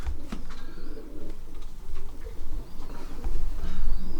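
Soft pigeon cooing repeats throughout, low and murmuring, with a few brief chirps and rustling in the background, from young pigeons in a loft in Poland.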